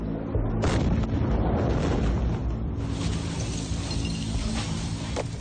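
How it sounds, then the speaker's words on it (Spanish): A heavy, muffled explosion booms at St. George University Hospital in Lebanon, caught by security cameras, then gives way to a sustained roar of noise and debris, with a second burst partway through. "Las cámaras de seguridad del Hospital Universitario St. George recogieron el momento de la brutal explosión."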